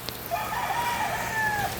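A white, red-faced rooster crows once in a long, drawn-out call, steady and fairly clear over faint background noise of light rain.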